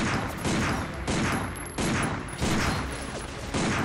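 Rapid bursts of gunfire from the video game Binary Domain crackle in dense repeated volleys, loud and continuous, with no voices over them.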